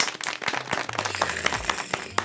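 Quick, irregular hand claps ring out close and fairly loud over a low steady hum, several claps in quick succession across a couple of seconds with no talking.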